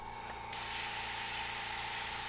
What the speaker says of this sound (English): Minimal spray, just a little tint.